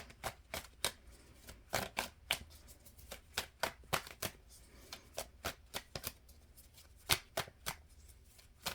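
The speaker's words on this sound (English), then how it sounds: "All right, 2 more shuffles." A deck of tarot cards is shuffled by hand, giving a run of sharp, crisp riffles and taps in an irregular rhythm, quiet and close with no talking.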